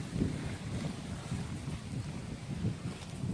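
Wind buffets the microphone outdoors while a tent is taken down, a continuous low rumbling roar with gusty swells, no talking.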